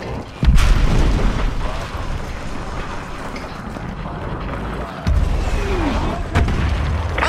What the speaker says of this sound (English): The LZ is under heavy fire.